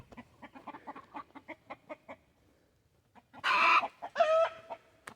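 A hen clucks in a rapid series of short, soft pulses, then pauses before louder, drawn-out squawking calls close by.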